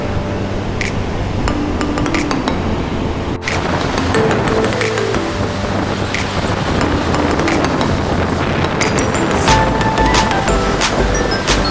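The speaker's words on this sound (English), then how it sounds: "enjoy getting drenched by the splashing waves" Waves splash against rocks on the Pondicherry coast in a loud, continuous wash of surf, heavily buffeted by wind noise on the microphone, with no one speaking.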